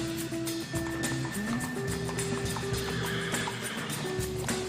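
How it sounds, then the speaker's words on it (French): A three-year-old trotter horse whinnies amid steady clip-clop of hooves and harness noise, moderately loud and continuous, with no talk over it. "C'est un cheval âgé de 3 ans."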